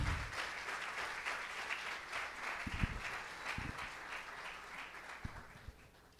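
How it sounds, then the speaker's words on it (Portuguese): A church congregation at a worship service applauds, with a broad wash of many hands clapping that is soft and somewhat distant, a few louder thumps standing out and the clapping fading slightly toward the end. "Então, dê seu melhor aplauso."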